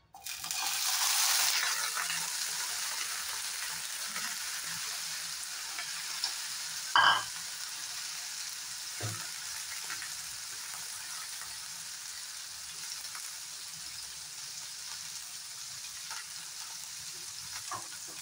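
Onion, ginger and tomato hit hot oil in a pan and sizzle loudly at first, settling into a steady, softer frying hiss with a couple of stirring clanks along the way and no talking.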